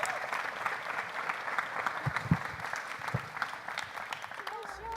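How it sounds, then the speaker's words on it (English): A youth town hall crowd at the 2018 Human Rights Award event keeps up a sustained round of applause, a dense, even patter of many hands with a few louder individual claps and faint voices underneath. "Let's give another round of applause."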